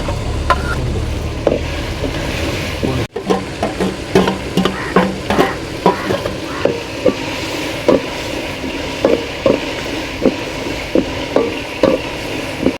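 Ginger garlic paste sizzles and fries in a pan for goat head gravy, with a loud steady crackle broken by repeated rhythmic scrapes and clinks of a stirring spoon against the pan.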